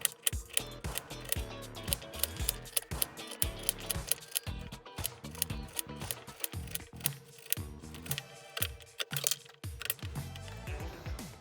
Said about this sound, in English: now we're going to cut up this carrot to make the chips